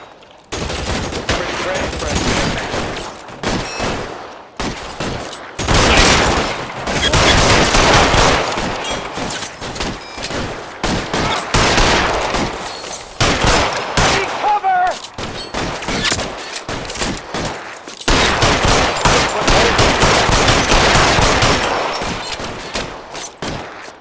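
Heavy, nearly continuous gunfire from a shootout in LA Noire, with dense overlapping shots that stop briefly now and then and start again. The shots are loud and close, and voices shout in places under them.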